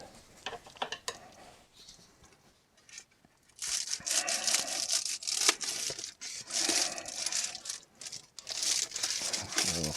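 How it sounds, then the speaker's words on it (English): Scissors cutting a plastic bubble mailer: crinkly plastic crackling and rustling, quiet at first then louder and continuous from about midway, with snipping and crunching bursts up close. "and then we'll just kind of cut around it"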